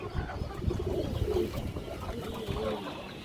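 A small pigeon coos close by in a few rolling, throaty phrases, the bubbling calls rising and falling over a faint background of other birds.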